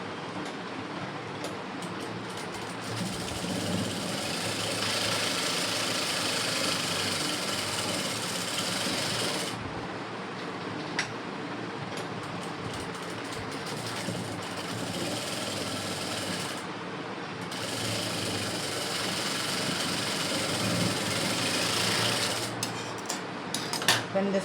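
Sewing machine stitching a blouse in long continuous runs of rapid mechanical whirring, close and loud, stopping briefly twice before resuming, with sporadic clicks toward the end.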